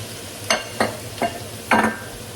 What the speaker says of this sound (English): we're gonna saute this here for a few minutes until all those vegetables are getting translucent